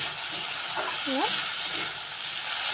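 Vegetables sizzling and frying in a pan while being stirred, a steady broadband hiss close up with brief scraping and a faint tonal chirp in the middle.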